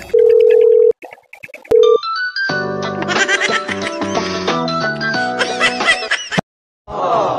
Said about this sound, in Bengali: দেখি তো ফোন দিয়ে দেখি।